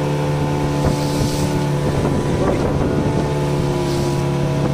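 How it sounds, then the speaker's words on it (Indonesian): Strong east wind buffets a small fishing boat trolling at sea in bad weather, a steady loud rush over the continuous drone of the boat's motor, with occasional thumps against the hull. "Angin timur sangat kencang sekali."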